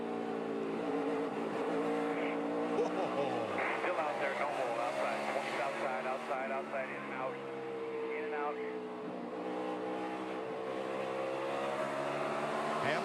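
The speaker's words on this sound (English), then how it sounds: "let's ride with Jimmy Johnson and show you what happened from the view of the Lowe's Chevy" Engine of a Lowe's Chevrolet NASCAR race car at the 2013 Food City 500 drones continuously from onboard, its pitch rising and falling through laps, under steady talk from broadcast commentators.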